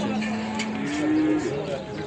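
At a cattle market in Ceyhan, a cow gives a drawn-out moo up close, with faint market chatter in the background.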